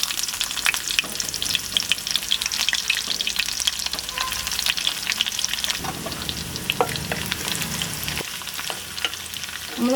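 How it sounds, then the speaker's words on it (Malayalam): Mustard seeds and onion fry in hot oil for a fish curry, giving a dense, steady crackling sizzle with rapid popping and occasional stirring, close and loud. "കടുക് പൊട്ടിക്കാൻ മാത്രമേ ഉള്ളൂ ഉള്ളി എടുത്തിട്ടുള്ളൂ."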